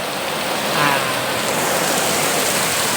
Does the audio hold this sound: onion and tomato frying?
no